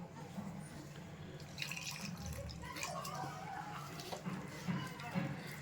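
Water is poured into a semolina and raw potato dough, a faint, close trickle and light splashing running for a few seconds under quiet talk.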